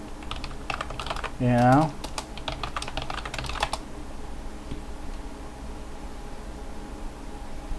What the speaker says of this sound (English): from here you can go ahead and type whatever it is you want